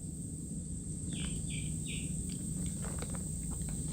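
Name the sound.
baby chicks chirping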